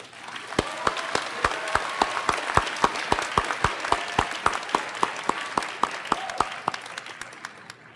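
Applause from a commencement audience at a university chemistry and biochemistry graduation ceremony, with sharp individual claps standing out over a dense, steady round of clapping that tapers off toward the end.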